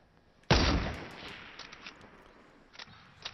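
A gunshot cracks loudly in Fortnite Battle Royale, with a sharp onset and a long decaying tail, then a few fainter shots follow; nobody talks.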